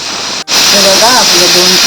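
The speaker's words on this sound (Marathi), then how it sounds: "बघा आपल्या दोन शिट्या झाल्या" A pressure cooker on a gas stove lets out a loud, steady steam whistle, hissing with a wavering tonal pitch after a brief break, close and dominant.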